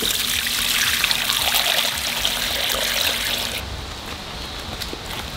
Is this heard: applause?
no